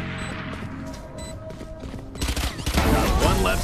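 Gunfire in the Valorant shooter game: a quiet stretch of faint in-game sounds, then a sudden loud, sustained volley of shots that fills the final second and a half.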